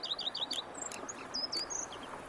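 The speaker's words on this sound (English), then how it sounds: "Bees buzzing, birds chirping." Birds in The Witcher 3 video game chirp in quick high bursts of tweets and short calls over a soft, faint outdoor hum, with no speech.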